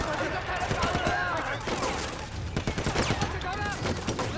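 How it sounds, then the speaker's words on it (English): Gunfire from the video game Sleeping Dogs during a wedding shootout, with dense overlapping shots and bursts filling the scene under excited talk and game noise. "where am I getting shot from?"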